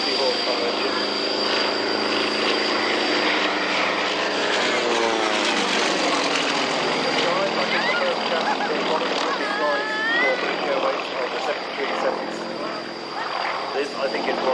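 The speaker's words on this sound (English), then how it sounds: "That is purely by the aerodynamic forces of the rudder against that very powerful 360 horsepower engine." An aerobatic airplane with a 360 horsepower engine performs at an airshow, its propeller engine droning loudly and steadily with shifting pitch as it manoeuvres, while a commentator talks over it.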